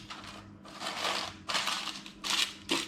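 Pre-cut greaseproof paper crinkles and crunches in a few close, loud bursts while it is pressed into a cake tin for an apple custard tea cake.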